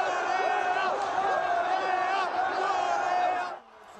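Mexican fans in a square loudly chant and sing in unison for Korea, a dense, sustained crowd roar of voices with rising melodic calls that cuts off abruptly near the end.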